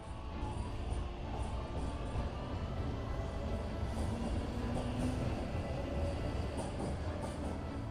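A train speeds along in the video game Trails Through Daybreak, a continuous low rumble and rattle of rail travel with a steady, unbroken drone.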